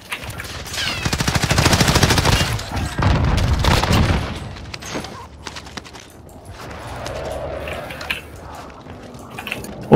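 Call of Duty Warzone (Cold War era) combat with loud rapid automatic gunfire and booming shots, fading into quieter scattered clatter and a final sharp shot.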